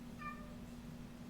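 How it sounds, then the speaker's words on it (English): A single short cat meow rises faintly over a steady low electrical hum, with no other sounds around it. "Cat?"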